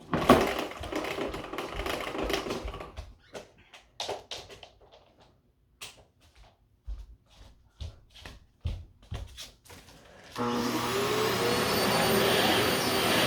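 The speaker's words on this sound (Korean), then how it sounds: "청소기로 할 거야" A household vacuum cleaner used for cleaning: after a burst of noise and a stretch of scattered knocks and taps, the machine runs with a loud, steady whooshing roar close by.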